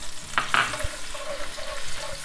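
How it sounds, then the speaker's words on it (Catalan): Onion tossed into hot oil for a monkfish and clam stew, giving a short burst of sizzling with a couple of sharp spatters and light stirring scrapes, close and moderately loud. "La deixarem un parell de minuts o així que es vagi sofregint"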